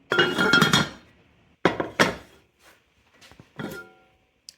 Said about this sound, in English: Just put your lid on top and then pop that straight into the oven.